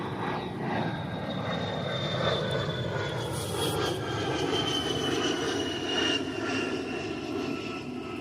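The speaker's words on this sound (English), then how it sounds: "Looks like the Maryland A-10. Here comes another." A-10 military jet flying by at Davis-Monthan Air Force Base in Arizona, a steady distant engine roar with a high whine that slowly drops in pitch, fairly faint with no voices.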